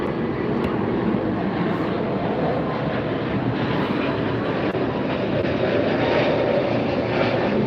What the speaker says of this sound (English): Behind the Level Airways jet, we have an Avianca Cargo. That's an